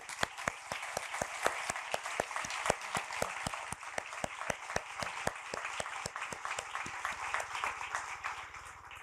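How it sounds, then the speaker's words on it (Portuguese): Sustained applause from an audience at a public policy and cancer information event, honoring a woman's dedication, with dense steady clapping and sharp individual claps standing out near the front. "nós queremos homenageá-la pedindo os aplausos de vocês"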